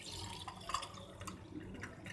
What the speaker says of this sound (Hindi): उसके बाद हम पानी डालेंगे।